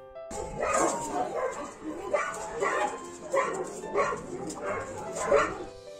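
A dog barks and yips in a quick rhythmic series of about six or seven short, bright calls. The barks are fairly close, with faint whimpering between them.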